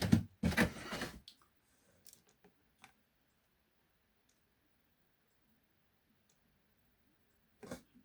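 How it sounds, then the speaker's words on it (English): Model railway point motors on a Megapoints controller layout snap in a dense burst of clicks over the first second, then a few scattered faint ticks, with a final short cluster of clicks near the end; no talk. "But you can hear the clicking sounds where the points are taking"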